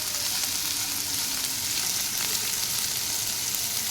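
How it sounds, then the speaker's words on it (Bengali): Steady bright sizzle of vegetables frying in a pan for sago khichdi, continuous and close with faint stirring, no talking. "এখানে আমি সবজিটাকে ভালো করে ভেজে নিতে হবে।"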